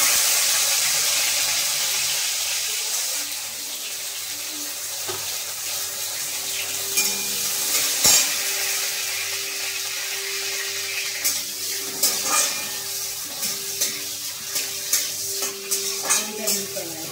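Bitter gourd (uchhe) frying in hot oil for shukto, a steady bright sizzle with occasional stirring clatter and scraping, close and continuous.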